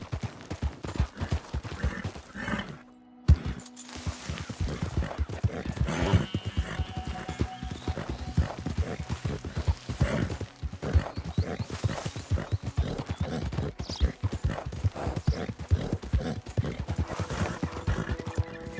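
Horse hooves clip-clopping in Red Dead Redemption 2, a steady rhythmic run with occasional whinnies and stray game gunfire, continuing loud for the whole stretch.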